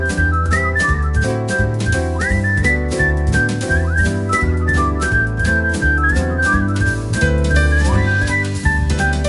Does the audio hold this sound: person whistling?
yes